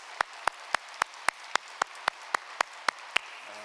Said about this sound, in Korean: 여러분 우리 감사의 박수를 한번 좀 할까요?